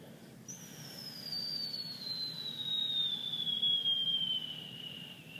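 A thin, high whistle slowly glides downward in pitch over several seconds, imitating a falling bomb, with faint background hiss.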